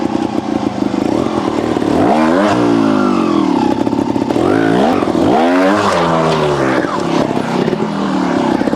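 A 2023 GasGas TXT Racing trial motorcycle rides in second gear, its engine burbling close and loud with repeated sharp revving bursts, rising and falling, with no talking.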